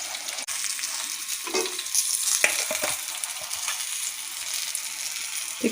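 Crispy KFC-style chicken frying in hot oil, a steady bright sizzle and crackle with occasional soft clinks and stirring, close and continuous with no talking.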